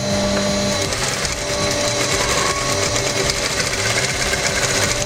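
A sewing machine runs steadily, stitching two pieces of shiny fabric together, a continuous close whirring and rapid needle rattle with no pauses.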